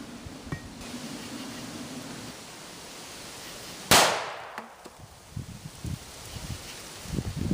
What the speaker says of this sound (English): So now let's shoot it with 338.